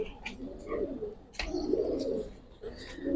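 Giribaz pigeons on a rooftop loft give soft, repeated low coos in several close rounds, with faint speech in the background.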